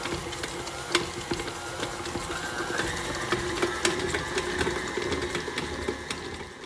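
Banana bread batter being mixed, a quiet, steady mechanical whir with small rhythmic clicks and scrapes, soft and continuous with no talking.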